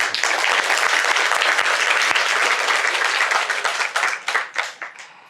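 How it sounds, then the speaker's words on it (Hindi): Audience applause in a hall, with dense, loud clapping from many people that holds steady for several seconds, then thins into scattered claps and fades out. "आप तालियां बजा सकते हैं।"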